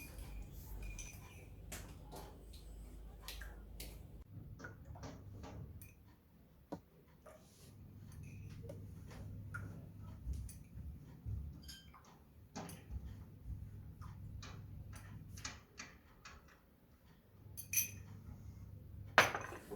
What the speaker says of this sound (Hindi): अब इनमें हम एक एक चम्मच दूध डालेंगे।